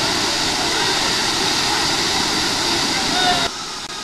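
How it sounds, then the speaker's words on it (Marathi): Waterfall at Chonda dam roaring as a dense, steady rush of falling water, loud and unbroken before abruptly dropping to a quieter level near the end. "कसला व्ह्यू आहे धबधब्याचा जबरदस्त"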